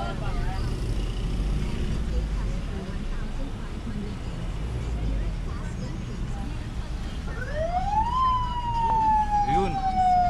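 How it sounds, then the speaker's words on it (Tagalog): A siren rises and wails over steady road traffic noise near the end, fairly close, while people talk throughout. "May wangwang."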